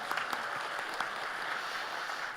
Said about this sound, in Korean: 우리 다시 한번 박수로 격려하시도록 하겠습니다.